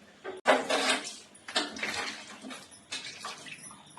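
A gas stove washed with soapy water: close wet splashing and rinsing bursts with light metallic clatter, coming in uneven surges with short pauses between them.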